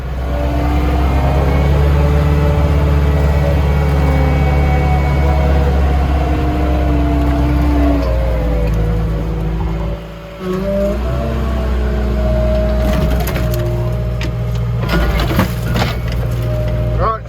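A small John Deere machine labors at high load trying to tear out a giant storm-felled oak, its engine droning and shifting pitch, briefly dipping, with crackling and snapping wood later and voices speaking at times.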